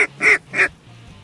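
A duck quacks three times in quick succession, fairly close and clear, during a field duck hunt, with quiet open-air background between calls.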